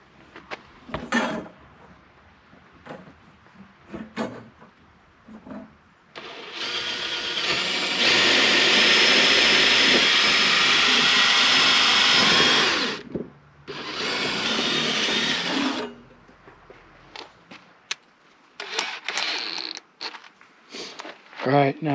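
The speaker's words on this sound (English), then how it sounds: "a small long drill bit to drill all the way through" A power drill with a long drill bit whirs loudly in two sustained bursts while drilling through a cabin wall, the second briefly paused, with scattered clicks and handling noises before and after.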